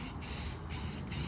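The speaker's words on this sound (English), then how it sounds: "I'm gonna spray some guide coat on this thing so I can see where I'm sanding" An aerosol can sprays guide coat onto a van body in three hissing bursts, each broken by a brief gap, close and steady with nothing else heard.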